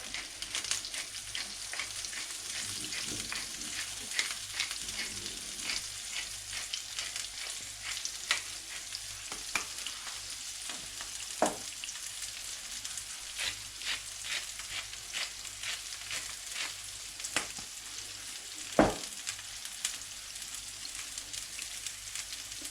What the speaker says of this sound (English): Leave to cook a little bit. Caramelize.